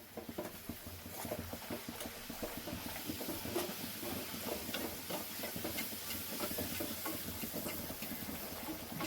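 Rolled luchi, a puffed flatbread, frying in hot oil, a faint continuous bubbling sizzle with small crackling pops that stays fairly even throughout.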